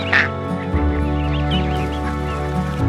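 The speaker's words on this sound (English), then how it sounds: "the mama ducks and all their babies are actually out here with us" Mother ducks and their ducklings quack in a garden, a steady stream of busy calls and chatter close by, with a low steady hum running underneath.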